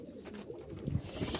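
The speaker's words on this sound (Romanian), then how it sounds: "Niște porumbei, să bag eu pe aici." Soft, low pigeon coos murmur close by in a short burst, faint and muffled with some light rustling.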